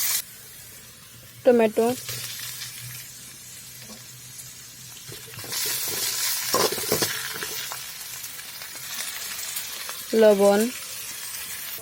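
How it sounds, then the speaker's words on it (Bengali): Onion and green chilies sizzle in white oil in a pan, a steady frying hiss with stirring through the middle stretch, while someone speaks briefly at the start and end. "এর মধ্যে দিয়ে দেব সাদা তেল, কাঁচা লঙ্কা, পেঁয়াজ আর কাঁচা লঙ্কা ভালো করে ভেজে নেব"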